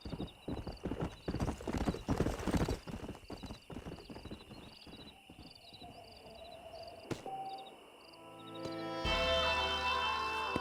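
Horse hooves clip-clop in a steady rhythm on the ground in Red Dead Redemption, loud and close, then slow down and give way to a sharp whinny and snort near the end.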